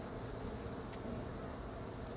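Honeybees hum steadily throughout a summer hive inspection, a soft continuous drone close to the frames with no talking.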